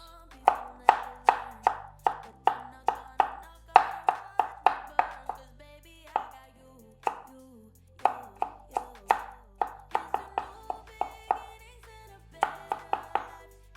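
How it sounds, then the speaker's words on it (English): Garlic being chopped on a cutting board while making a Jamaican-style breakfast: quick, rhythmic knife strikes in bursts, close and crisp, with a couple of short pauses between runs. "cut up my garlic in there"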